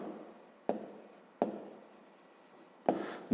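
A pen writes on paper in three separate bursts of scratchy strokes, each starting sharply and fading, close and quiet with no speech.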